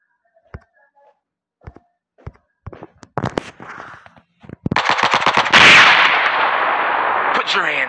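Shotgun fire in a tactical police shooter game: isolated sharp blasts at first, then denser rapid gunfire building into a loud sustained barrage, close and dominant.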